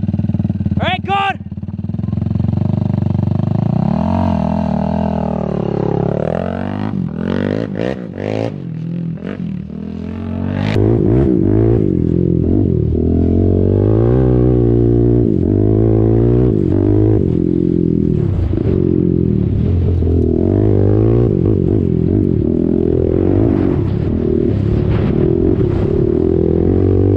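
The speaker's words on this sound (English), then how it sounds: "There goes the rod, right, Dom?" A Yamaha YFZ ATV engine revving hard as its connecting rod fails, loud and close, rising and falling rasping revs that break into rough clattering and scraping, with voices speaking over it.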